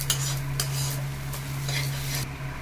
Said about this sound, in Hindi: अब मैं इसमें डाल देती हूँ मूँगफली जो मैंने क्रश करके रखी थी, इसको भी इसी में डाल देती हूँ। इसको भी ऐसे ही भून लेना है।